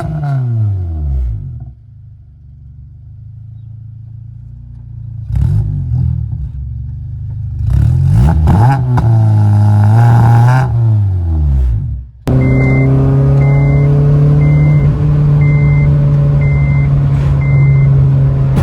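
An 8th gen Honda Civic Si engine revs hard under launch control, climbing and dropping in pitch before settling into a loud sustained high rev with a repeating electronic beep over it, close by.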